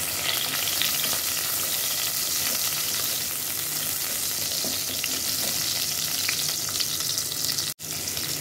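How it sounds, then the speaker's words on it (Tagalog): Onion frying in hot oil, a dense continuous crackling sizzle that holds steady and loud throughout, broken only by one brief dropout near the end, with no speech. "Ito na, mainit na ang mantika. Ilagay kong unahin ang aking sibuyas."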